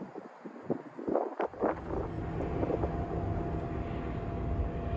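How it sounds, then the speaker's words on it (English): Steady low engine drone from a helicopter passing overhead, a continuous broad rumble with a few louder gusty bumps early on. "When we hear the helicopter flying overhead and the trains in the background"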